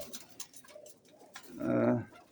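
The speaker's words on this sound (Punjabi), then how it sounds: "ਇੱਥੇ ਬੈਠਾ ਇੱਕ ਵੱਡਾ ਕਬੂਤਰ" A pigeon gives a single low, throaty coo near the end, close by, after a few faint ticks and rustles.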